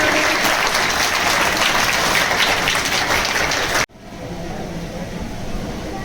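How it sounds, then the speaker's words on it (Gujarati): An audience at a village school admission festival breaks into loud, dense applause that fills the room, then cuts off abruptly to quiet background murmur. "તાળીઓના ગડગડાટ."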